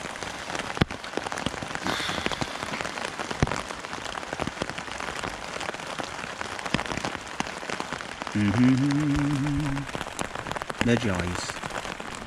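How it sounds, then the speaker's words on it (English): Heavy rain mixed with hailstones pelts a tent at a solo winter stealth camp in the UK, a dense steady patter with sharp impacts, a brief voice speaking and a short tonal whine partway through. "It's actually hailstone,"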